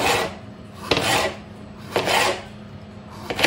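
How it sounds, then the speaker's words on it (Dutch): A knife slicing vegetables at an angle for Surinamese sour pickle, three raspy cutting strokes in an even rhythm, each ending in a sharp tap on the board, close and clear with no talk. "Dan ga ik dit mooi schuin snijden."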